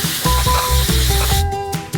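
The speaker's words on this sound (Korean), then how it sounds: "뜨거운 캐러멜에 직접 질소를 뿌려요." Liquid nitrogen sprays onto hot caramel in hissing, sizzling bursts, loud and close, with a few brief pulses repeating over two seconds.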